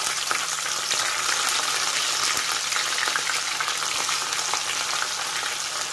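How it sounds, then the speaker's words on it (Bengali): Shrimp frying in hot oil, a dense, steady crackling sizzle close by and loud throughout, with faint scattered clicks and no talking. "তেল মনে হয় গরম হয়ে গেছে, একটা দিয়ে দেখি"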